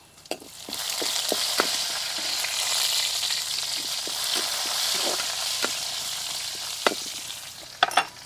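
Dried red chillies and curry leaves fry in hot oil for a Kerala-style tapioca dish. A close, continuous sizzle is broken by sharp crackles and pops scattered irregularly, with a few clustered near the end.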